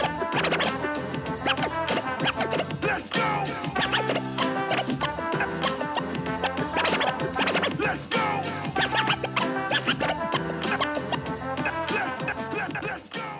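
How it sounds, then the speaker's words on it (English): Automated scratch effect from the Merge FX function on a Pioneer DJ FLX6 GT controller, a continuous dense stream of rapid scratching over a music track, loud and steady throughout. "so I looked up Pioneer's demo of this,"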